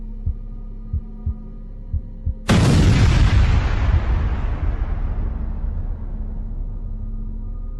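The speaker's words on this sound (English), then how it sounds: "the gas unit suddenly blew up with an extremely loud bang" A rooftop gas heater unit being refilled explodes with a sudden, very loud bang that cuts through a few faint ticks, followed by a long rumbling decay that slowly fades over several seconds.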